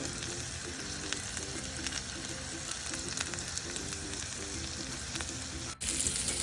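Steak frying in a pan, a steady close sizzle and crackle running unbroken, with a brief dip near the end as the meat is shifted.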